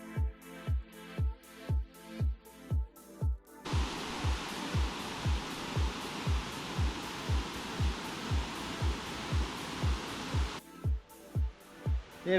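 Ellinjaa Falls, a waterfall in Queensland's Atherton Tablelands, gives a steady broad rushing roar that swells up in the middle and then drops away, with regular soft thumps pulsing through the whole stretch.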